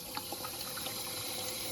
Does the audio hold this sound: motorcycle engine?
no